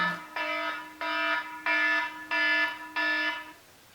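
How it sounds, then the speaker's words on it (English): An alarm beeps in five long, evenly spaced harmonic blasts, loud and close, with short silent gaps between them. "Alarm"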